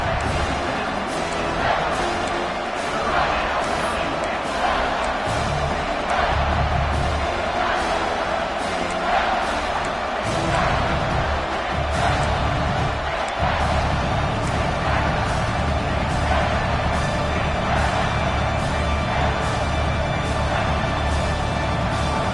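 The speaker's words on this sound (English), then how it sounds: "This dog crowd is off the leash, and they are coming after them, bringing noise on third down." Football stadium crowd roaring on third down at a Notre Dame versus Georgia game, a dense, sustained wall of noise with scattered thumps and shouts, steady and loud throughout with no clear talk.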